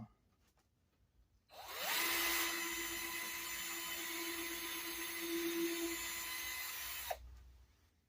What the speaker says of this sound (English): All right, that hole drilled.